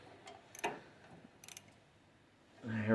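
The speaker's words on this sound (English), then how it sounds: "Double check, make sure your bolts are nice and tight." Quiet ratcheting clicks from a wrench tightening bolts on a snow blower during small engine repair, in two short bursts of close mechanical ticks followed by a louder scrape.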